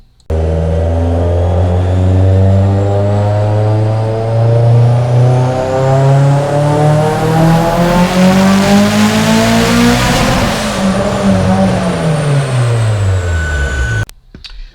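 A turbocharged Mitsubishi Lancer EVO X with a Garrett G35-1050 turbo, Kelford cams and Ecumaster Black tuning, running rich on 24 psi boost; its engine roars loud and close, climbing steadily in pitch, peaking, then falling before cutting off.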